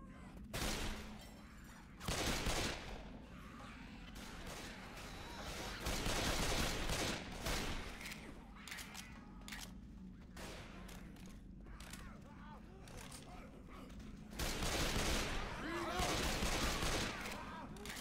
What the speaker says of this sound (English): I'm rocking dual pistols now